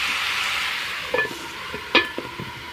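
Chicken curry being stirred and fried in a pot makes a bright, steady sizzle, broken by a few sharp spoon clinks and scrapes toward the end.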